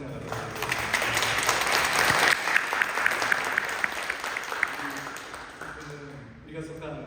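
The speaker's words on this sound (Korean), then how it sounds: "우리 함께 박수로 환영하도록 하겠습니다." A church congregation claps to welcome a visiting pastor and his wife during Sunday worship, sustained moderate applause that tapers off near the end as a voice begins.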